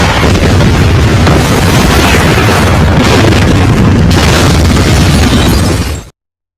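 A car explodes in the action film The Mechanic: a loud, sustained blast with shattering debris and rumbling fire that fills several seconds before cutting off abruptly.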